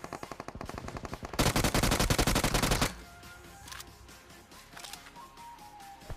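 Rapid automatic gunfire in BGMI, a fast steady string of close, loud shots that intensifies into a dense burst, then thins to scattered fainter shots.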